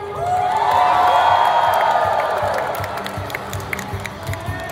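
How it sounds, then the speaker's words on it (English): An audience of children and adults cheers for Ultraman at a live stage show, a loud swell of crowd cheering and applause that peaks early, then fades to scattered claps and shouts. "Let's cheer for him, everyone!"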